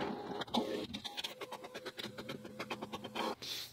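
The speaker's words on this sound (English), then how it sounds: "when you're ready, you can just click print, and the printer will begin to print" A printer prints a page sent from a Chromebook, with close mechanical whirring, rapid repeated clicks of the feed and a rising motor whine toward the end.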